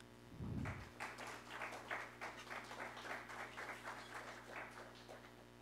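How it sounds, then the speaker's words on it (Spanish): An audience at a university event opening applauds to welcome a speaker, a steady run of many claps in a room, quiet overall, with a brief low thump near the start and a faint electrical hum beneath. "damos una bienvenida con un voto de aplausos"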